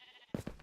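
Sheep in the video game Minecraft bleat three times in quick succession, short and fairly close, after a brief quiet start.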